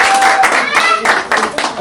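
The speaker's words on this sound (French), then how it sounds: "Sur vos acclamations, s'il vous plaît." Guests at a wedding brunch clap steadily for about two seconds, a dense close applause blended with a voice or music carrying over it.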